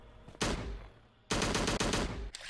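Rapid gunfire in the Slendytubbies survival game: a short burst, a pause, then a longer loud rattling volley of close, evenly spaced shots.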